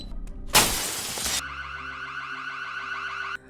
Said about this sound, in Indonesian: mendobrak jendela pintu depan yang mengaktifkan suara alarm